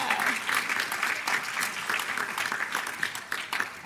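A crowd claps steadily and enthusiastically throughout, a dense patter of applause that stays even in volume.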